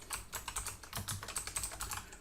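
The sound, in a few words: typing on a computer keyboard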